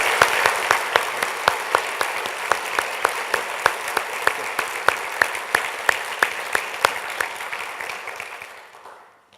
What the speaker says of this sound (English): So let's actually give these 4 a round of applause as well.